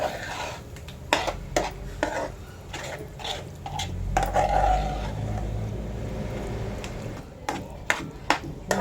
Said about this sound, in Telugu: ఇవన్నీ వేసుకొని బాగా కలుపుకోవాలండి